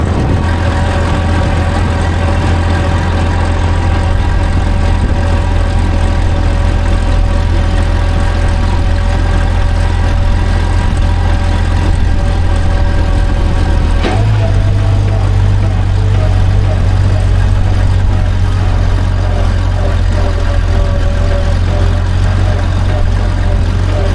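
A G950 tractor engine idles steadily and close by, a deep low rumble with a constant throb, its pitch stepping slightly lower about two-thirds through and then holding even.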